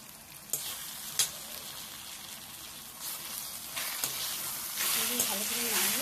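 Boiled taro stolons tossed with red chilli, cumin, Kashmiri chilli and turmeric powder in an oily pan: a steady hissing fry with a few distinct scrapes of a spatula, the sizzle swelling louder toward the end, with a faint voice briefly.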